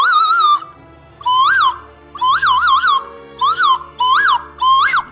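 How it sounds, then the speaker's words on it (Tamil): A nose flute plays breathy, warbling whistled phrases in short bursts with pauses between, bird-like and close. "இது வந்து மூக்கு குழல்னு நம்ம தமிழில் சொல்லுவோம்"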